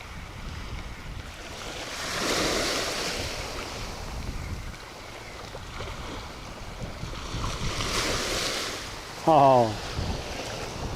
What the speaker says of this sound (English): these crashing waves today, it sounds so smooth, make me want to take a nap.